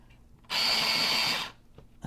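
A small electric sharpener grinds a colored pencil in one loud, steady whir lasting about a second, starting and stopping abruptly, with quiet room noise on either side.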